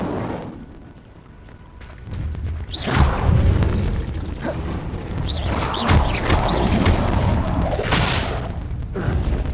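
Incendio fire spell cast in a Harry Potter video game, repeated bursts of roaring flame and booming impacts with crackling, loud and close, layered over a continuous rumbling bed.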